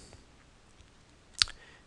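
A single sharp computer mouse click, close and crisp, stands alone against a quiet background.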